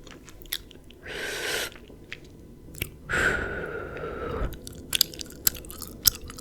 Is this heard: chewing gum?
yes